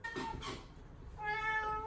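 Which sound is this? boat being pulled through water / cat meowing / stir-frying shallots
cat meowing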